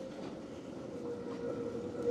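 Tram running along a sunny Helsinki city-centre street in October, a steady close rolling rumble with faint metallic squeal, alone without voices.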